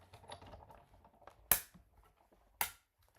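A manual die-cutting machine gives two sharp, loud cracks about a second apart as thick watercolor paper tags are cranked through, with faint mechanical rustling between them.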